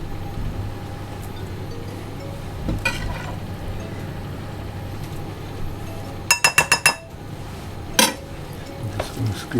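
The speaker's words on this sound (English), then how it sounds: "I'm just going to give this a stir through." A spoon moves through a mixture in a bowl, with soft scraping followed by a quick run of bright clinks against the bowl and a later single clink over faint background hum.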